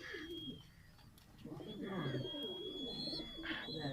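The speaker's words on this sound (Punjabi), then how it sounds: "ਇਹ ਦੋਸਤੋ ਟੈਡੀ ਮਾਦੀ ਹੈ ਜਿਹੜੀ ਇਹਨਾਂ ਇਸ ਮਕੋਏ ਨੇ ਕਬੂਤਰ ਨਾਲ ਲਾਈ ਹੈ।" Pigeons of the Makwa breed cooing on a rooftop loft, low soft coos repeating through the clip with faint chirps, under someone speaking.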